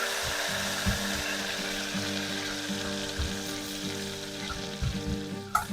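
Garlic chutney sizzles in oil in a pan with a little water added, a continuous frying crackle broken by a few low thumps and a brief sharper clatter near the end.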